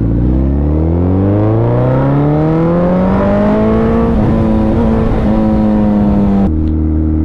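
Suzuki Hayabusa motorcycle engine held at low revs and worked through the clutch, a loud close steady drone that rises gradually in pitch then drops suddenly near the end.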